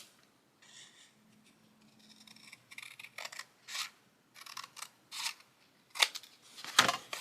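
Scissors cutting through seed packet paper, a quiet close run of crisp snips that grow sharper and more frequent toward the end, with no talk.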